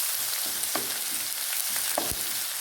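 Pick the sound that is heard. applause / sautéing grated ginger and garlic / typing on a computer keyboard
sautéing grated ginger and garlic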